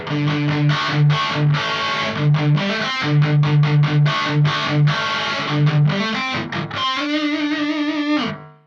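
Heavily distorted electric guitar played through a Mooer GE150 processor on a Peavey amp model, chugging palm-muted riffs in rapid stop-start bursts ending on a sustained ringing chord, loud and alone.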